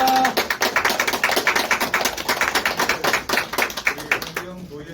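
An audience at a Korean political endorsement event claps to welcome a provincial councillor, a series of sharp, close hand claps in an uneven rhythm that stops abruptly near the end.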